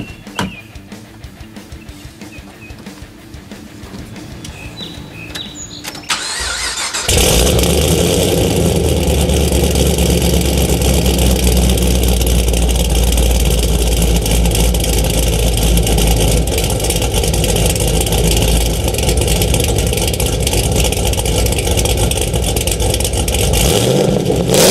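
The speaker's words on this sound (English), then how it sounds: "I'm gonna start the car up. I'm gonna give it a few revs so you guys can hear it." An 850 hp modified Chevrolet Camaro ZL1 fires up after a few quiet seconds, its engine catching with a loud burst and then settling into a heavy, rumbling idle close by, with revs that swell and fall.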